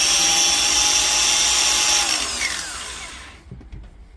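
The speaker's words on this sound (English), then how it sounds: "with the mighty moment of truth with this one, let's see" Repaired Dewalt angle grinder running at full speed with a loud, steady high whine, then spinning down and winding to a stop over about a second, leaving faint clicks.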